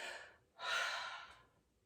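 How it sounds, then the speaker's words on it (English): After a whole-body squeeze in a children's wellness exercise, a long, breathy exhale rushes out close by, preceded by a shorter, softer breath, then fades away. "Squeeze and exhale."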